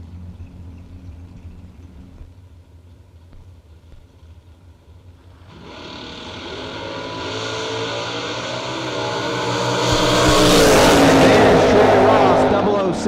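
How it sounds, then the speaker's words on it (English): A Chevelle hot rod at a drag race idles low and rumbling, then launches into a loud rising roar that builds to full power, with an announcer talking throughout. "This little Chevelle not only looks good, works good"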